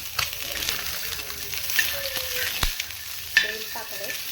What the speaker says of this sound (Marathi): तर इथं तेल तापायला ठेवलंय आणि इथं अंडे मी भाजून घेत आहे.